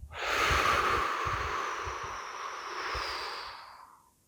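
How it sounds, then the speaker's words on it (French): A full breathwork exhalation emptying the lungs: one long, close, airy breath out that swells quickly, holds steady for about three seconds and then fades away. "vider entièrement tout l'air de tes poumons"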